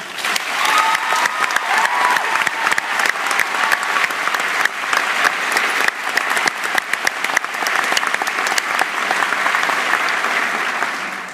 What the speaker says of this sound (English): So let's give our teachers another round of applause.